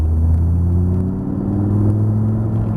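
A car engine rumbles loudly and steadily, its low drone rising slightly in pitch as the vehicle speeds up, with no talking.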